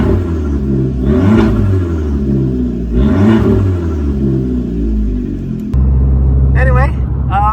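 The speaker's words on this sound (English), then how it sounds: "Rev it up a little bit." A Fiat Abarth converted to run on E85 fuel revs twice in quick rising swells, then settles to a loud, steady idle rumble. A voice sounds faintly near the end.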